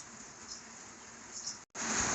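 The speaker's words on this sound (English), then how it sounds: "you noticed it was raining. It's finally tapering off." Rain patters steadily outside a barn as a shower tapers off, a soft broadband hiss that drops out briefly and then returns.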